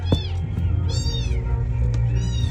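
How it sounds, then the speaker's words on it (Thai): A tiny kitten whose eyes are not yet open, meowing while being fed milk: several thin, high, drawn-out cries close by, repeated over a continuous low background rumble. "ยังไม่ลืมตาแล้วมี น้องแมวตัวเล็กด้วย ป้อนนมอยู่ค่ะ"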